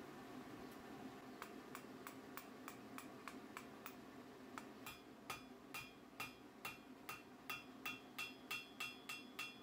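A blacksmith's hammer strikes steel while upsetting a long shovel-handle section, a steady series of sharp ringing blows, evenly spaced and growing louder and quicker toward the end, close and clear with no talk.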